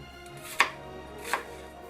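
A knife chops through half an onion on a cutting board, with two distinct knocks well apart against a quiet kitchen background.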